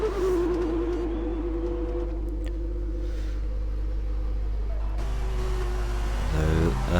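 A racing car engine in an F1 video game during an F2 qualifying session at the Australian GP, droning steadily with a fluttering rev glitch, then pitch jumps and wobbles near the end.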